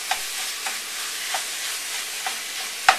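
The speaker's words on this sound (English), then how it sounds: "I'm going to put the ground turkey right there in the pan." Ground turkey browning in a hot pan as a spatula breaks it up, a dense steady sizzle punctuated by regular soft taps and scrapes roughly every half second, ending with a sharper clack.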